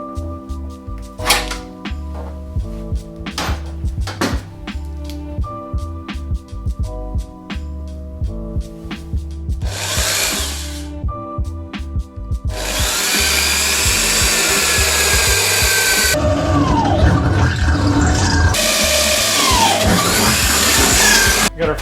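A power drill bores a bolt hole for a diesel heater on an overland trailer, with short bursts of whirring, then a long loud sustained grind with a wavering pitch, close by.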